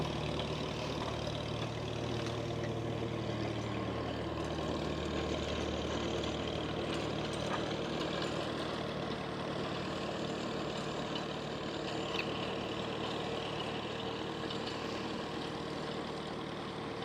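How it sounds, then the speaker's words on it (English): An old tractor engine runs steadily at a heritage village museum, a continuous low idling rumble that stays near and even in level throughout with no talk over it. "See a tractor in action."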